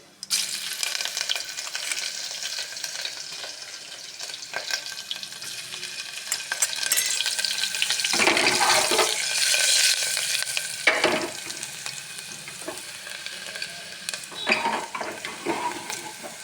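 Green chillies, cumin and asafoetida sizzle steadily in hot oil in a pan, with a spoon stirring and scraping in bursts over a continuous crackling fry.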